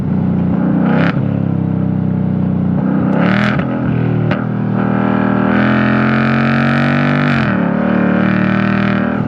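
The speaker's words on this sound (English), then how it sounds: "Stepping up here to the H-pipe is absolutely glorious. Deep tone mixed with the high tones." A 2024 Ford Mustang GT V8 with a Magnaflow H-pipe exhaust and chambered mufflers and no resonator revs loudly, a deep burbling drone mixed with raspier highs, with several sharp throttle blips rising and falling.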